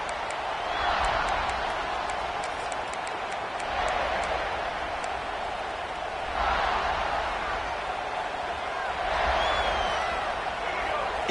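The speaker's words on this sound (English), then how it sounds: "It's early, but this crowd is fired up. Listen to this noise here." A football stadium crowd roars just after a home touchdown and kickoff, a steady, loud wash of cheering noise that surges in waves throughout, with faint commentary layered over it.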